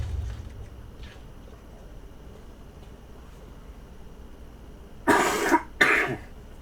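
A man playing a horror video game clears his throat and coughs twice near the end, two loud, close bursts over faint, quiet background hum.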